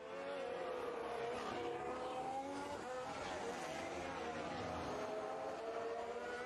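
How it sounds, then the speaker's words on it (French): A Cadillac Formula 1 car brakes hard at Spa during Belgian Grand Prix practice, its engine note rising and falling steadily through the pass, with faint commentary underneath. "C'est une Cadillac, celle de Bottas. Dernier gros freinage ici."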